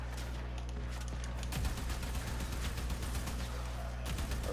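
Rapid bursts of Axeltra weapon fire from a Warframe relic-farming run, steady repeated shots over a constant droning game background at moderate level.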